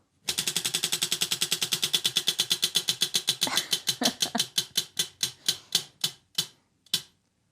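A spinning wheel clicks in a fast, even ratchet that gradually slows, the clacks spacing out until a few last ticks come alone and then stop.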